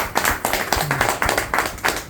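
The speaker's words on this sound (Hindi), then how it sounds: "तालियां। वाह।" A small audience claps in distinct, fairly regular beats, roughly four claps per second, close and clear with no talk.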